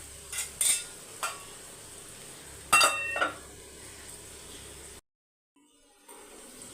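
Rasam is stirred in a pot with a metal utensil, giving a few quiet scraping clinks and taps over faint kitchen background, then a brief drop to near silence.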